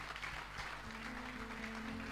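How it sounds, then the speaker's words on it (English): Congregation clapping during a church service, faint and distant under a steady hum and a sustained organ-like tone, continuous for the whole stretch. "Let us all give a big clap to the Lord Jesus Christ."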